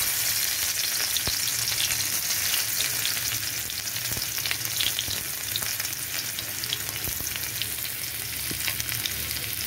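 Garlic frying in hot oil in a kadai (wok) for egg tadka, a steady dense sizzle with faint stirring clicks running throughout at moderate loudness, no voices.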